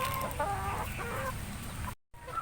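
Hens clucking softly around a new nest in a backyard coop, a few short murmuring clucks close by in the first second and a half, then quieter ambience after a brief cut.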